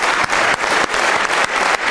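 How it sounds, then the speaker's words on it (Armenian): A comedy-show crowd applauds loudly for a performer, close, dense clapping that swells in regular waves with short dips roughly every third of a second, giving it a pulsing, rhythmic feel. "Եկեք բարձր ծափարենք։"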